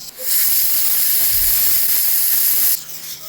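Steam hisses loudly and steadily from the jiggler weight vent of a Hawkins pressure cooker for a few seconds, then cuts off abruptly, leaving a faint low hum.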